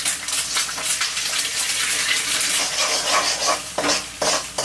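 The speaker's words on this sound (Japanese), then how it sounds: "フライパンや中華鍋に油を熱して最初に卵を炒めます" Eggs frying in hot oil in a frying pan or wok, a continuous crackling sizzle broken by repeated scraping, stirring strokes, close and moderately loud.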